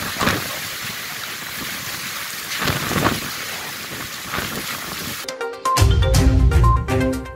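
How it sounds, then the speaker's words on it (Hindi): Monsoon rain with thunder and stormy wind in Harnai, Balochistan, a dense steady roar of rain with gusty surges, ending in a sudden deep rumble of thunder. "गरज चमक और तूफानी हवा के साथ मानसून की दूसरी बारिश"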